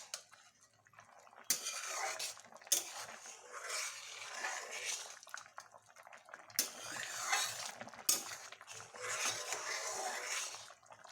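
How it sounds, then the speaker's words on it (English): Chicken soup stirred in a pot, with a ladle scraping and clinking against the metal in recurring strokes over a soft bubbling, liquid swish, close and moderately quiet. "Give a nice stir."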